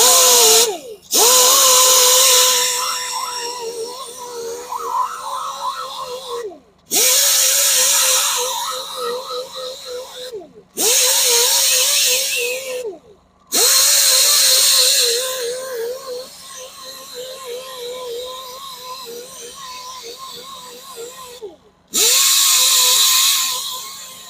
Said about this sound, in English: I'm going to take care of that with the conditioning disc